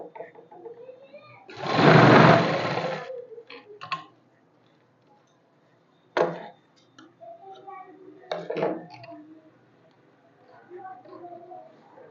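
A sewing machine stitching pant fabric runs in one loud, dense burst of about a second and a half, followed by scattered ticks, fabric handling and brief quiet speech nearby.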